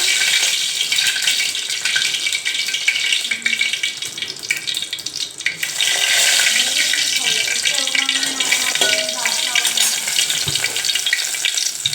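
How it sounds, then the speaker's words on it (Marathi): Garlic crackles in hot oil in a pan for a dal tadka: a loud, steady, dense sizzle with sharp crackles throughout, close up, with no talking. "ते बघा, हे तडकतंय खूप जास्त।"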